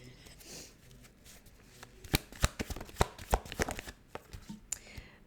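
Tarot cards are shuffled and pulled from the deck close by, the riffles and slaps coming in quick uneven bursts with brief pauses between them.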